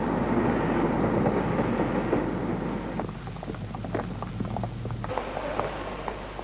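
A train rumbles steadily along a railway track in 1969, a dense, low roar with rattling clicks from the wheels, loud at first and easing slightly as it carries on.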